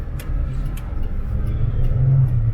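A Mitsubishi Pajero Mini VR2 turbo kei car pulling away on a street, its small engine droning loud and close as it rises slightly in pitch under acceleration, with rumble and cabin noise.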